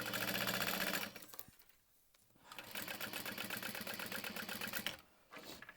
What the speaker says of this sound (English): So it's one big piece that we're going to top stitch both sides.